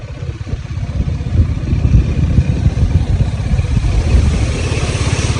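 A motorbike crosses a flooded road, its engine throbbing steadily and loud throughout with a rough low rumble and clattering texture, close by and without speech.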